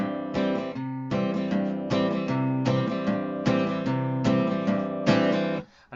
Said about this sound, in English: there's another way to play chords, and that's something called a root and fifth